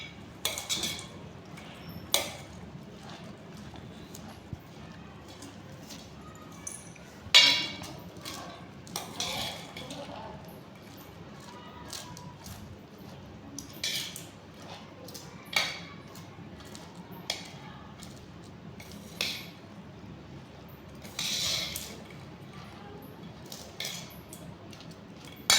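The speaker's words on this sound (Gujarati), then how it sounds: "હવે આ બધું જ આપણે હલાવીને મિક્સ કરી દઈએ" A spoon stirs and mixes chana methi pickle ingredients with grated mango in a metal bowl, producing soft scraping and occasional clinks at an uneven pace, fairly quiet, with no talking.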